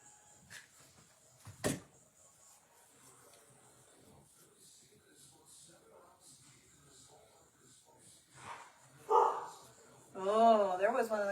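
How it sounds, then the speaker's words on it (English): A greyhound barks indoors, a few sharp woofs near the end after a quieter stretch with faint background activity, while people talk over parts of it. "Did you guys hear the greyhound bark?"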